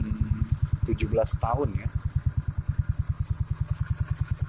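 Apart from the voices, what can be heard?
Suzuki Spin 125 scooter engine with RX King carburetor running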